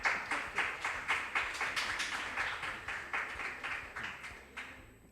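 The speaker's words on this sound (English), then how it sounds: "Kindly give them a round of applause." A quiz competition audience claps in rhythmic unison, roughly three sharp, even beats a second, fairly close and without talking, tailing off near the end.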